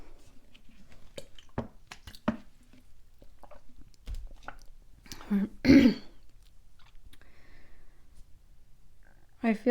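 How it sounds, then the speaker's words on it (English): A few throat-clearing coughs and rough throaty sounds come in short bursts, close by, between quiet pauses. "I'm even sort of still kind of coughing a little bit."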